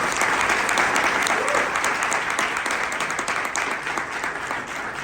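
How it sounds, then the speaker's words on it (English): An audience at a Brooklyn district attorney's event applauds for a colleague who served as MC, with dense, sustained clapping filling the room that slowly thins toward the end. "Give her a round of applause."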